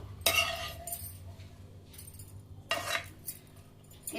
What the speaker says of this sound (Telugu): మిక్సీ గిన్నెలో వేస్తున్నాను.